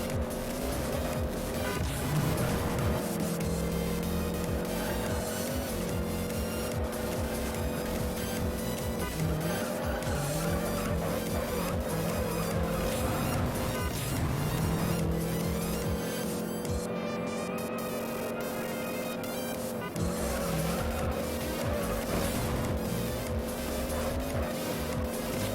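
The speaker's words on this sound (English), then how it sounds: "You can hear now when I try to upshift, but the car doesn't have a 6th gear." Engine of a race car in the Juiced racing video game revs hard and strains against the top gear, with repeated tire squeals and a constant loud mechanical whine.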